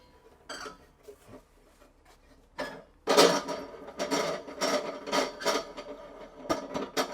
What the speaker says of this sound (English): Take the wing nut off.